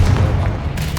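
Confringo blasting spell detonating in Hogwarts Legacy, a dense, loud burst with heavy low-end rumble filling the whole moment without a break.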